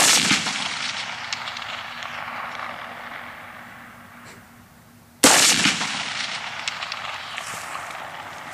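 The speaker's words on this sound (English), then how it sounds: "Alright, we're gonna blow stuff up with bombs." Two loud bomb blasts at an outdoor tactical range, the first fading into a long rumbling decay before a second sharp explosion bursts in and rolls away.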